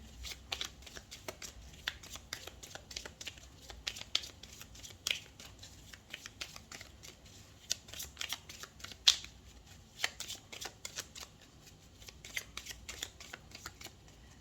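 Tarot cards being shuffled by hand, a steady run of soft papery riffles and slaps with brief sharper snaps, close and fairly quiet throughout with no talking.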